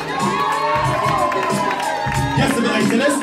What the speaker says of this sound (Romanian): Aplauze, da?